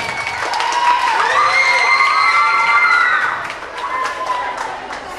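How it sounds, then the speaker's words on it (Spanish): Children at a school event shout and cheer in an excited crowd, high voices overlapping loudly with a little clapping, easing briefly near the end before rising again. "Démosle un fuerte aplauso."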